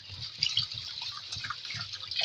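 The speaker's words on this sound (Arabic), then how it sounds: "نبدا نغسل العدس" Lentils being washed in water in a kitchen while preparing koshari, close splashing and dripping with light sloshing, soft and continuous, no voices.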